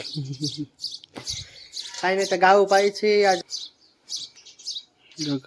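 Bright, chattering myna calls come in quick bursts, close by, mixed with a person speaking in between.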